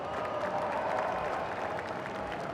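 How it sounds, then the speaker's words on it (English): Crowd applause at the 2019 Arnold Strongman Classic during the Rogue Elephant Bar Deadlift event, a steady, dense wash of clapping that holds evenly for the whole stretch without voices on top. "let's give him a round of applause because we love our military"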